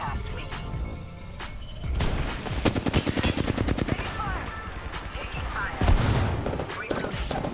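Rapid automatic gunfire rattles in dense bursts during an Apex Legends match on PS5, with a thud and crash near the end, loud and close.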